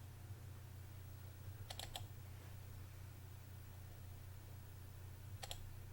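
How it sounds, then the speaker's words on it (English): Computer mouse clicks come in two short bursts of several quick taps each, near 2 seconds and again near 5.5 seconds, over a steady low electrical hum during an astronomy session. "you might hear me clicking around here"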